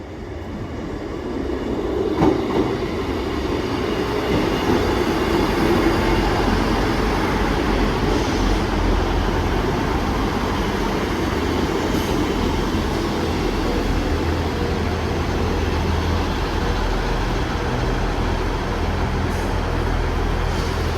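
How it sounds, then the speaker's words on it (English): A double Class 158 diesel unit bound for Norwich pulls into Warrington Central station, a steady loud rumble of engines and wheels on rail sustained throughout with faint clatter, no voices. "The next train to arrive in is a double 158 going to Norwich."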